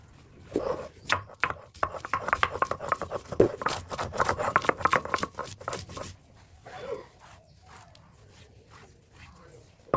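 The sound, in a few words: grinding garlic on a grinding stone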